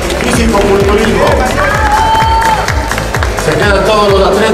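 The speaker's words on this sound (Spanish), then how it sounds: "Fuerte el aplauso" Dense, loud applause and cheering from a crowd at a senior 70 kg bodybuilding contest at the Miss & Mister America IFBB Cup, continuous rapid clapping with music and voices mixed in throughout.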